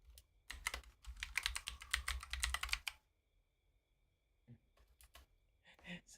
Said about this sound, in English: Somebody mentioned yesterday about the tip tap on my keyboard.